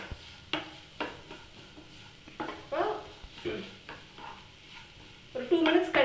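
Green beans sautéing in a pan with sauce and rock salt, stirred in soft scraping bursts over a low steady sizzle, with a louder clatter of stirring near the end.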